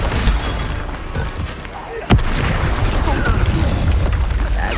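Bombarda spell explosion in Hogwarts Legacy: one sharp, loud blast about halfway through, followed by a dense rumble amid combat sounds and spoken spell names.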